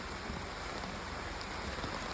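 Steady rain pouring down, a dense, even hiss of drops on surfaces, soft and continuous without voices.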